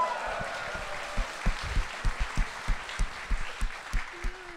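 A small studio audience on a Dutch comedy show claps in a loose, uneven rhythm that grows more distinct toward the end, with a murmur of voices and cheering underneath.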